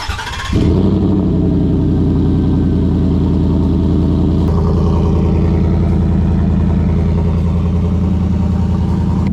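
Ford F150 truck with a 5.0 engine and modified exhaust cranks over and fires up cold, settling into a loud, steady, deep idle that rumbles close by throughout with no talking.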